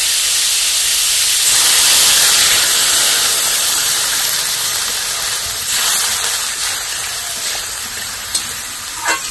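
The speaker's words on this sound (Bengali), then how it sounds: "এবারে দিয়ে দিচ্ছি জল।" Water poured into a pan of frying chicken pieces for soup sets off a loud, steady steaming hiss and sizzle that fills the whole stretch and slowly eases, with no voices.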